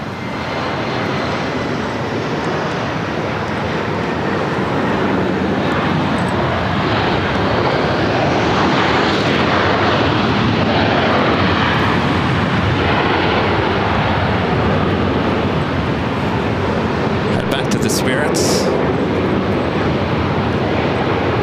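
Airliner jet engines roar loudly and continuously at LAX in challenging weather, a broad sustained rumble that swells as an aircraft passes near, with no talk over it.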